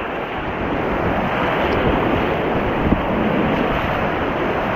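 Rushing whitewater roars steadily on the Ocoee River during a tandem kayak race, a dense, unbroken wash of water and wind noise close to the boat with no voices.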